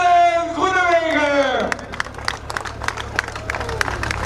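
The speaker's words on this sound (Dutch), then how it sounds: "we gaan een applaus laten horen voor Dylan Groenewegen" Applause from a crowd at a local event honoring cyclist Dylan Groenewegen in Almelo, with sharp scattered claps and cheering that follow an announcer's amplified voice.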